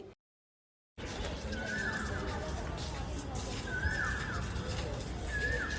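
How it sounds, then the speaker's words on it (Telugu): Birds call repeatedly in short chirping phrases over a constant outdoor background, moderately distant, after a brief silence at the start. "ఎంత పీస్ఫుల్గా ఉందో కదా ఆ సౌండ్స్ వింటుంటే బర్డ్స్ది"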